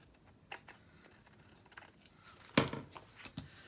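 Scissors trimming a washi tape pocket on an index card: a single sharp close snip stands out, with a few fainter small clicks and handling noises scattered around it in a quiet room.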